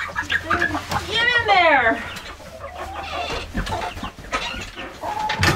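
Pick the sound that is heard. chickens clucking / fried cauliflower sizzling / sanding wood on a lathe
chickens clucking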